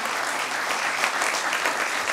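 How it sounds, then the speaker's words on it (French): A conference audience applauds a panel at a real-estate industry event, with dense, even clapping from many hands filling the room at moderate volume and no speech over it. "je pense qu'on peut les applaudir"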